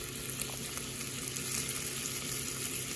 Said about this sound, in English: Let them sear on each side so you get a nice brown crust from that flour.